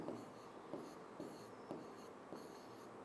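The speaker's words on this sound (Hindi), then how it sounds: "मैं यहाँ लिख देता हूँ, बीच में ब्लैक लिख देता हूँ इसको" Chalk or marker writing on a classroom board, with a series of short scratchy strokes tapping and sliding in an uneven rhythm, close and fairly quiet.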